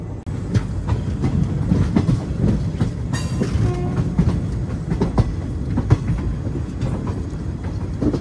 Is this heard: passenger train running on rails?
yes